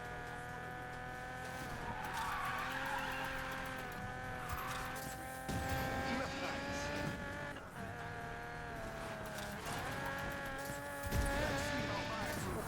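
A race car slides on gravel in the video game NFS Payback, its engine droning steadily with tire squeal and skidding throughout.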